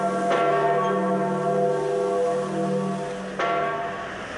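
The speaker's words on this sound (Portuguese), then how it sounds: "tudo ao som dos sinos da Basílica de São Pedro" Large church bells of St. Peter's Basilica ring out with deep, lingering tones, two fresh strikes landing about three seconds apart while the earlier ring slowly fades.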